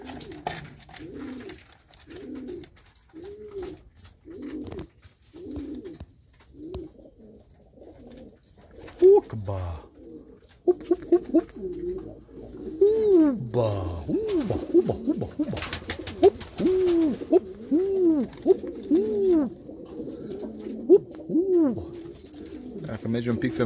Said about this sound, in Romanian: că e un porumbel fain